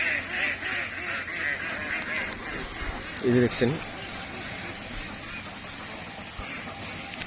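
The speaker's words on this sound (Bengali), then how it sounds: "দেখছেন কত সুন্দর হাঁসগুলা এখানে খাবার খাইতেছে" Ducks on a farm of about a thousand birds, feeding and quacking steadily in a busy flock, heard under someone speaking over them.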